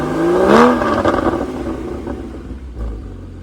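A Porsche 981 Boxster engine revs up sharply as the car accelerates, the rising tone peaking early, then settling into a lower drone with a thump near the end, loud and close.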